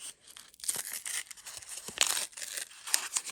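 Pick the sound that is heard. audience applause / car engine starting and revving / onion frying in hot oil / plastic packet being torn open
plastic packet being torn open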